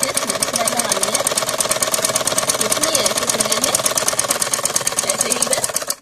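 A sewing machine runs straight stitches along salwar fabric, a rapid, even needle chatter and motor whir held steady and close for the whole stretch.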